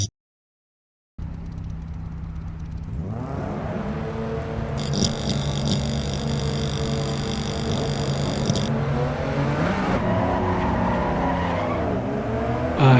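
A Devil Z lookalike car in Assetto Corsa EVO on a racetrack: a loud engine rising through the revs with a steady drone, shifting pitch, and tyre squeal toward the end, opening after a brief silence.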